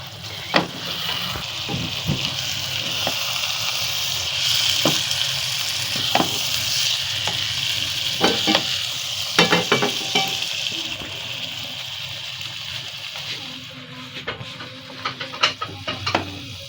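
Cooked smoky chana dal being stirred and scraped out of a pan, with soft sizzling underneath and a series of sharp spoon-against-metal clinks and scrapes spread through, no talking.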